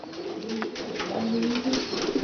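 Tomprang high-flying pigeons cooing, a steady low throaty warble with soft repeated coos and faint wing or background noise, moderately close and without speech.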